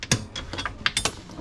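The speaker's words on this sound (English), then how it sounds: "So the first step is to take these retaining clips out." Retaining clips are pulled out of a hybrid camper's rooftop tent, giving a short series of sharp metallic clicks and rattles, close up, with no speech.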